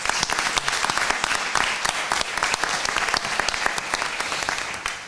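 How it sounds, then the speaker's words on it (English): An audience at an evening panel event on digital health innovations applauds steadily, a dense, continuous wash of many hands clapping at close to moderate distance with no talking over it. "I'd like you all to give a great round of applause to our moderator"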